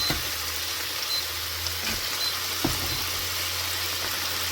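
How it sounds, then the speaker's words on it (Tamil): Onions sautéing in a pan for sambar give a steady, even hiss that carries through the whole stretch, with one or two faint knocks of a utensil and no voices. "இந்தியாவில் சாம்பாருக்கு வெங்காயம் வதக்கி கொண்டிருக்கேன்"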